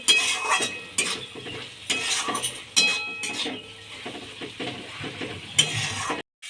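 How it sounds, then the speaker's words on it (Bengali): Potato and drumstick flower poppy-seed dish with a little sugar being stirred in a pan, a spoon scraping and clinking in bursts over a steady low sizzle, close and fairly loud, with no talking. "স্বাদ আনার জন্য সামান্য পরিমাণে চিনি, ভালো করে নেড়ে আমি নামিয়ে দেব।"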